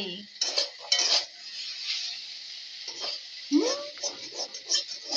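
Pots and utensils clatter as a grandmother cooks, metal clinks and scrapes coming in bursts with a steady background hiss and brief voices between them.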